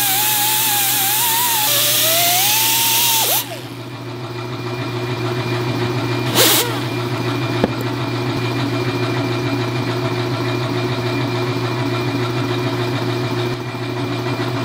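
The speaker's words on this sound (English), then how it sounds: "then I can go right to polishing with this little buffer wheel" A small buffer wheel polishes aluminum trim on a Subaru-swapped Porsche, giving a steady motor drone and hum, with a louder, rougher grinding whine in the first few seconds before settling into a continuous even tone.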